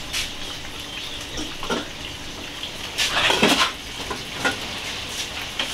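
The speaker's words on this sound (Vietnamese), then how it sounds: "Rồi giờ mình đem chỗ bầu này đi hấp." Pots and pans clank and scrape in a home kitchen as bottle gourd is set up to steam beside fish frying, with several brief metallic knocks over a steady background hiss.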